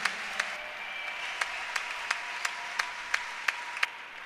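A church congregation claps in steady rhythm to praise the Lord, with sharp, evenly spaced claps roughly three per second over a low room hum.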